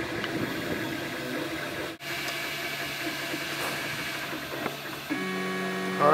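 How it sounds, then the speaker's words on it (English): A 3D printer prints quadcopter motor mounts for an HD500 build, giving a steady mechanical hum and whir with stepper-motor tones that shift as the print head moves, close and moderately loud, with no talking. "So we have the second part printing in conjunction with the first part."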